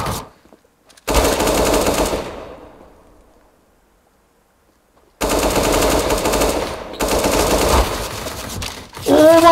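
Automatic gunfire from a video game comes in loud, rapid bursts separated by a few seconds of silence, and a voice briefly cuts in at the end.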